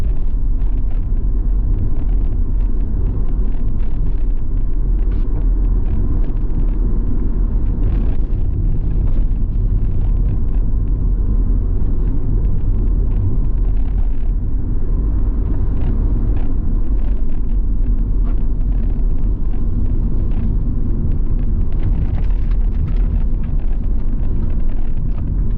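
A car speeds along a road in Trelawny, Jamaica, filling the interior with a loud, steady low rumble and wind buffeting that runs unbroken, with no voices.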